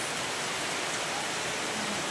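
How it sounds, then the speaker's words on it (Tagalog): Dense, steady rain roars evenly as a continuous hiss of falling water, fairly loud and without voices. "grabing kusog sa ulan"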